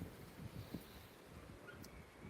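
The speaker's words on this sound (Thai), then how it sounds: "พอหมดฝนก็ มีลมเข้ามาอีกนะครับ" Wind gusting through a durian orchard in Chanthaburi after rain, a steady low rushing with soft buffeting bursts against the microphone, fairly faint and continuous.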